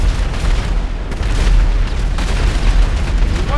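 Tank fire and explosions in GTA 5 Online, a heavy, continuous rumbling boom that stays loud and dense for several seconds, with no pauses between blasts.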